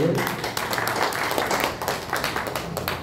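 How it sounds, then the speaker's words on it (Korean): Church members at a Christian federation's annual general assembly break into applause, a brisk, crowded clapping that keeps an even, busy texture throughout. "우리 하나님께 영광의 박수를."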